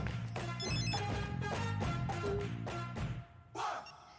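A telephone ringing loudly after a call is placed, with repeated ring bursts in a steady rhythm and music playing underneath, ending with a short pause and a final tone.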